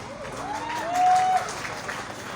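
A university audience claps at a campus gathering with a bazaar in Pemalang, giving a steady, fairly loud wash of applause that swells briefly in the middle, with a thin tone lingering in the background.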